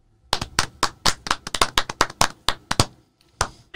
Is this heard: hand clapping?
yes